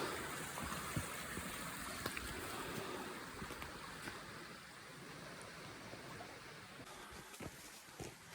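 Steady broadband rush of flowing water, continuous and fairly close, like a stream running over rocks, with no voices.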